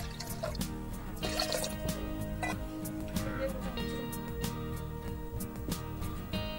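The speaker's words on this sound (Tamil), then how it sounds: "இது முங்குற அளவுக்கு தண்ணி ஊற்றிக்கோங்க" Water is poured into a pressure cooker holding toor dal with garlic and asafoetida powder, making soft drips and trickles under a quiet, continuous background hum.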